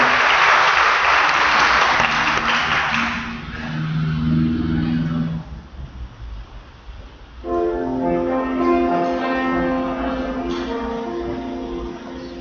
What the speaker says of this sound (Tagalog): Palakpakan natin ang Panginoon.